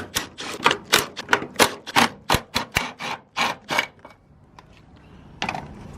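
A car engine bay is scuffed by hand with quick, rhythmic rubbing strokes, about a dozen close, sharp passes in a steady run before the scrubbing stops and leaves near silence. No one speaks.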